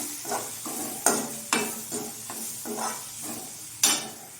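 Masala with biryani spice stirring in a hot pan while paneer rice is being cooked: a steady sizzle under a rhythmic run of spatula scrapes, several sharp clanks against the pan standing out, close and fairly loud.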